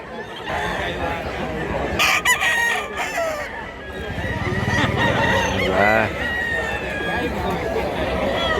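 Roosters and gamecocks kept for sale at a market in Mantalungon, Cebu, crow repeatedly, several overlapping calls near and far, over a busy background of clucking and people talking.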